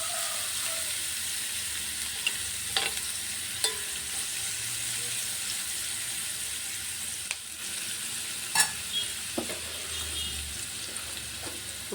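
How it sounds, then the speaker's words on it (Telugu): Prawns sizzling in a frying pan, a steady hiss with a few scattered clicks and scrapes of stirring, close and continuous throughout. "కొంచెం ఫ్రై అవ్వనిస్తాను."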